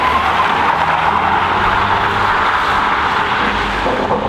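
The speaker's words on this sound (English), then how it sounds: "Just do a fat donut right here." A front-wheel-drive car spins a donut, its engine droning loud and close under a continuous broad roar of tires skidding across the surface without a break.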